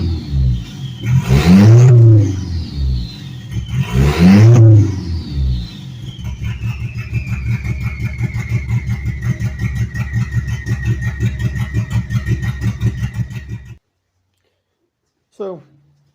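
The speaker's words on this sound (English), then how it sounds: "So, rich or not, it does sound like it has a camshaft in it." A car engine with a camshaft fires up with a couple of revving bursts, then settles into a loud, rough, lumpy idle for several seconds before cutting off, followed by a brief faint sound near the end.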